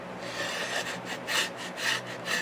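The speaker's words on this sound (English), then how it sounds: "scrape it anyway" An old wooden beehive frame being scraped clean, a repeated rasping scrape in rhythmic strokes about every half second, close and fairly loud with no talking.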